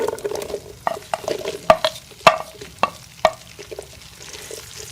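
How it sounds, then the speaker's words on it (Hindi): Slit okra frying in ghee in a wok, a soft sizzle broken by a string of sharp spatula scrapes and taps in an uneven rhythm, close and without talk. "भिंडी को फ्राई कर लेंगे 4 से 5 मिनट के लिए।"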